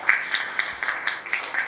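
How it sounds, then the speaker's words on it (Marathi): Audience applause at a Diwali magazine competition event, a soft, steady patter of many hands heard from a distance, fairly faint and continuing throughout. "एकदा सगळ्यांनी आपण जोरदार टाळ्या"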